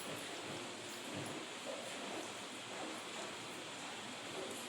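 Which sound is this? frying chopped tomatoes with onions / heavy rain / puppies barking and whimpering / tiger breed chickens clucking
heavy rain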